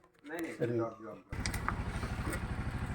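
A CNG auto-rickshaw engine starts after a brief burst of talk and settles into a steady, rhythmic low putter, fairly faint and close.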